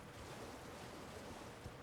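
Soft, continuous roar of cascading water from a waterfall in Elden Ring, quiet and constant with no talking.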